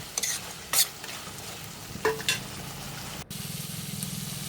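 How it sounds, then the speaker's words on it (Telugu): Eggplant and tomato curry with coriander is stirred in a pan, with a soft sizzle under a few scraping spoon strokes, then a steadier frying hiss toward the end; quiet and close. "కొత్తిమీర కూడా వేసుకుని బాగా కలుపుకోవాలండి"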